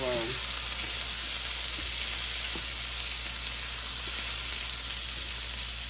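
Sausage and pepper sizzle in a pan on lowered heat, giving a steady, close, unbroken crackle throughout.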